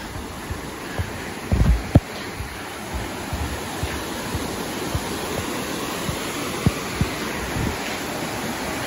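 A small waterfall cascade rushes out of sight through trees on the way to Westmorland Falls, a steady close wash of falling water with a few louder splashes and bumps, no voices.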